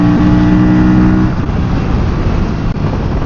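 An Aprilia RS 457 motorcycle engine drones loud and close while riding, a steady high-revving roar with a brief dip near the end.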